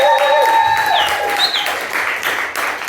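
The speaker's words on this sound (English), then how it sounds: "Can I get another big round of applause for all my acts tonight?" Loud audience applause with cheering and a few sharp whistles rises after the performers at a Ramsgate poetry night are thanked, continuing steadily for the full three seconds.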